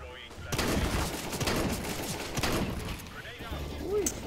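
Rapid bursts of gunfire in a competitive CS:GO match crackle almost continuously over a busy mix, with voices talking underneath throughout.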